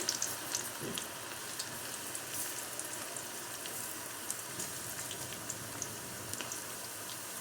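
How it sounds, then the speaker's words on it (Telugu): Cabbage pakodi fries in hot oil over a low flame, a continuous fine bubbling crackle with scattered sharper pops, close and even in level, with no talking. "ఇప్పుడు ఆయిల్ కూడా హీట్ ఎక్కిపోయింది పకోడీ అయితే వేసేసుకోవాలి"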